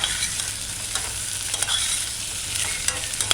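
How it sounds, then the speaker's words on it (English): Sweet potatoes sauté in a pan for a coconut stew, a constant hissing sizzle broken by repeated close scrapes and knocks of the spoon as they are stirred, with no voices. "After a minute of sauteing, stir it in a few times, allow it to fry."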